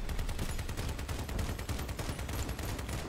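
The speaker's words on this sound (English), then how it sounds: "Long range missiles." Long-range missiles launching in the vehicle combat game Crossout, a steady loud barrage of rapid repeated firing bursts running without pause for the whole few seconds.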